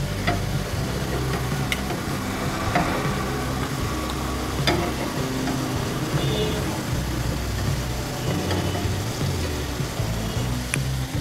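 Masala french fries cooking in a pan, a low steady sizzle with occasional clicks and faint stirring, quiet and continuous.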